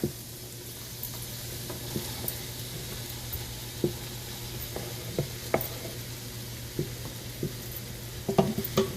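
Garlic and fresh ingredients cook in a pan for red beans, giving a low steady sizzle with a faint hum beneath and occasional sharp clinks of stirring, moderately close and with no one talking.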